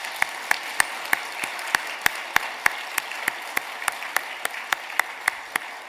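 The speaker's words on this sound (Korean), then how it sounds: "영광의 박수를 올려드리겠습니다" A church congregation at a New Year's Eve service claps in slow, even unison, a steady beat of sharp hand claps at moderate volume over faint room noise.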